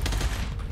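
A brief, loud burst of rapid gunfire from the shooter video game Gunfire Reborn, lasting under a second.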